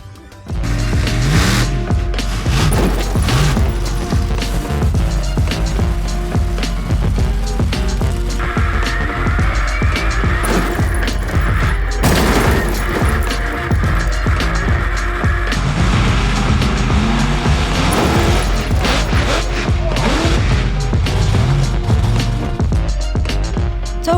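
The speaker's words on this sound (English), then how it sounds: "So who's ready to crush some cars?" A homemade monster truck built from lorry and digger parts crushes cars, giving a loud, continuous rumble of engine noise with metallic crunches and clattering throughout.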